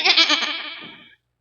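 A stage performer bleats like a goat, a vocal imitation heard alone: a loud, quavering run of pulsed bleats that trails off after about a second, with no other sound around it.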